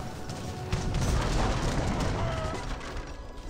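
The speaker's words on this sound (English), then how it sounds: "Let's take out some of the artillery weapons with the culverins." Culverin cannons fire on artillery units in Age of Empires: a dense battle din of booming shots and impacts, continuous and moderately loud, with a faint voice in places.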